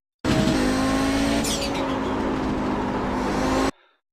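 Audi 90 GTO race car in the iRacing video game at Spa, engine held at full throttle with a steady loud drone, a brief gear-shift or tire squeal blip midway, then cutting off abruptly.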